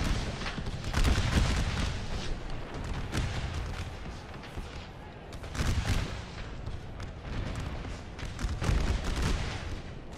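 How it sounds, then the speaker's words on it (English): Musket volleys crackle in the Gettysburg American Civil War mod of Napoleon Total War, a steady roar of massed gunfire with repeated swells of rolling shots and booms, loud and continuous. "Oh, now the counter volley."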